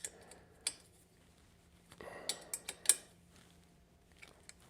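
A small bolt on a Suzuki genuine accessory pannier latch for a DL1000 V-Strom is turned by hand with a tool, giving faint, close metallic ticks and clicks in short irregular bursts against a quiet background.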